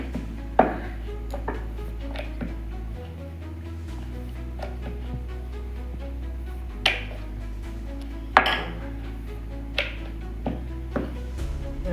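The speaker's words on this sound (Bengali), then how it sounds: "এরকমভাবে সব প্রত্যেকটাই এইভাবে বেলে নেব" Kochuri dough with a little oil being rolled out for pea-filled kochuri, heard as soft repeated knocks and clicks of a rolling pin against a board over a low steady hum, with no talk.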